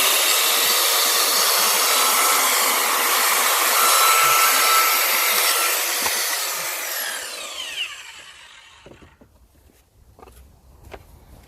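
An Evolution R185 CCSX multi-material track saw on a 1.4 m track cuts steadily, a loud, dense whine that holds for about seven seconds and then winds down, followed by a few light knocks and handling clicks.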